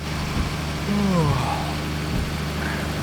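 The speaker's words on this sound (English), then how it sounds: "the sound that plays when you get tired in American Truck Simulator came from this game" A tired-driver alert effect from the truck-driving game Hard Truck: 18 Wheels of Steel, heard as a short descending tonal sweep around the middle of the clip over a steady idling truck engine drone.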